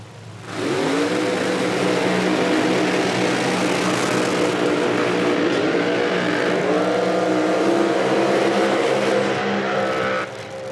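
A nitro drag racing car at an IHRA Outlaw Nitro Series event in Hebron runs down the track with a loud, sustained, rising engine roar lasting about ten seconds, with no talk.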